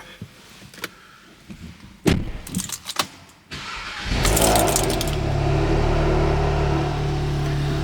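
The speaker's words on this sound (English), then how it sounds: "Let's hop in, get the car started now." Car doors and a few clunks on an Audi S3 8V Sportback, then its engine cranks and catches, settling into a steady idle that continues to the end.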